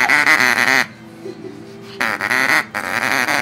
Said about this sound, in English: The wild duck appears.